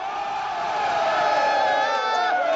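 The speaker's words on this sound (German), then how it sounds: "Der Jubel bei der Mannschaft ist grenzenlos." The A1 Bregenz team and a crowd cheer after winning the championship in Vienna, with a sustained roar of voices and rising whoops that fill the space continuously.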